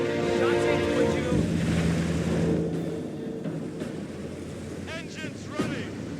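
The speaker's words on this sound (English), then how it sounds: "Engines running." Boat engines rumble steadily in Company of Heroes 3 during a North Africa Gazala battle, a broad droning roar with a tonal whine that eases partway through, joined by splashy noise and a brief sharp chirp near the end.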